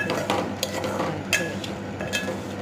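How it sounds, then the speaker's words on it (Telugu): Vermicelli and sago frying on low heat in a pan for payasam, with a spoon stirring and scraping against the metal, steady faint sizzle underneath and sharp clinks now and then, close up with no talking. "అండ్ అవన్నీ మంచి గోల్డెన్ బ్రౌన్ కలర్ వచ్చే వరకు సిమ్లో పెట్టుకొని మంచిగా వేయించుకోవాలి."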